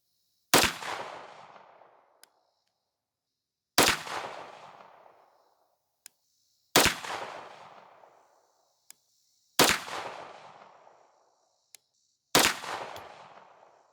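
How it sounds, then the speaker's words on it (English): Five loud 9mm pistol shots from a Canik fitted with a red dot and a 5.2-inch barrel, spaced roughly three seconds apart, each a sharp crack with a decaying echo, faint small clicks between. "5 more rounds loaded in the mag"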